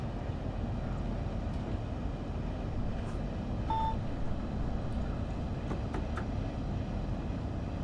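A Class 395 Javelin high-speed electric train runs on a Southeastern service in Train Sim World 2, giving a steady, continuous rumble with faint high ticks and no talking.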